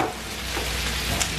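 Sausage mix fries in a pan, a close, soft steady sizzle with faint stirring scrapes, no voices over it.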